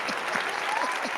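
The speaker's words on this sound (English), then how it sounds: "I gotta give you a round of applause" Brief, steady clapping from a small group on a casual late-night talk show, heard under a moment of conversational chatter.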